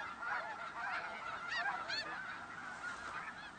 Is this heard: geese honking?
yes